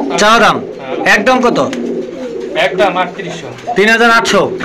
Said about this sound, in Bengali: এটা কিন্তু খুবই একটা রেয়ার কবুতর